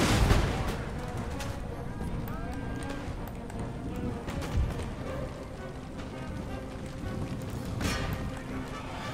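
Musket volleys and artillery in a Napoleonic-era strategy battle game, a steady rumbling barrage of distant shots with a few louder cracks, soft talk underneath.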